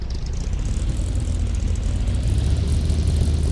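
The engine of a truck in the farming game Farming Simulator 15 drones at a steady idle, a loud low rumble that stays constant throughout with no talking.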